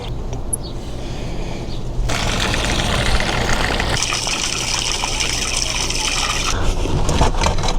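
Water flushing through a Blue Technology filter system, a soft trickle that jumps to a louder, steady gushing rush with a low pump-like hum underneath, continuous and close, with no voices.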